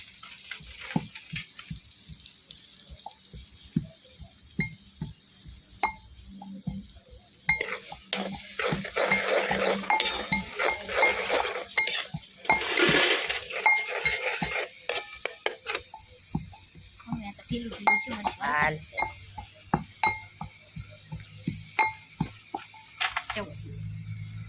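Onions sizzle as they fry in a pan, with a utensil scraping and stirring in repeated clinks and scrapes, close up, while people talk at times.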